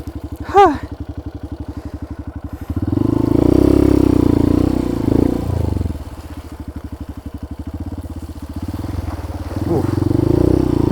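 A Honda CRF150L dirt bike on a trail in east Bali runs close by, its single-cylinder engine chugging steadily and then revving up in loud surges between idle stretches, with a voice briefly heard over it.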